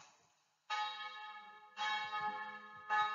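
Church bells ring out in three distinct strikes, each a rich, resonant tone that hangs and slowly decays before the next.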